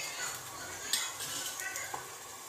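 Egg biryani masala with tomato, ginger, garlic and onion is stirred in a pan, giving steady close scraping with light metallic clinks and soft sizzling throughout.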